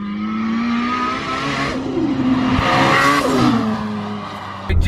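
A 550bhp SR20DET-powered Nissan Silvia S15 revs hard and close, its loud raw engine note rising and falling through a couple of sweeping pulls without pause.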